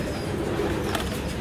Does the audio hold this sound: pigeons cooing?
yes